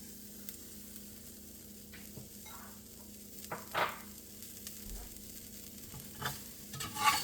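Ginger and scallions stir-fry in a pan for dried scallop egg white fried rice, a soft steady sizzle broken by a few scraping stirs and clatters, quiet and close, without talk.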